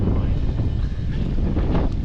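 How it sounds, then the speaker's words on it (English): Strong wind roars and buffets the microphone at a forest campsite by the French River in a forest fire zone, a constant low rumble with faint voices beneath it. "And it got windy."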